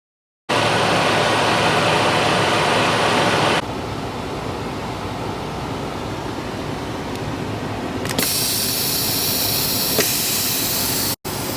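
Truck air brakes hiss during a Class A pre-trip inspection air brake check, a loud steady broadband rush that runs nearly the whole time, dropping slightly partway through and swelling again near the end before a brief cut.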